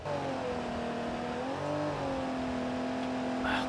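A Jeep engine in BeamNG on Johnson Valley, revving steadily with a sustained droning whine that rises slightly midway, stuck on a rock, no voice heard.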